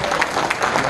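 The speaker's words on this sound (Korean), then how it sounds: "박수 한번 주시죠." Applause from an audience at a founding ceremony and seminar in a National Assembly members' office building meeting room, dense continuous clapping filling the short moment, with a few voices mixed in.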